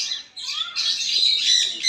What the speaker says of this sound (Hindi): धनेश पक्षी है ये।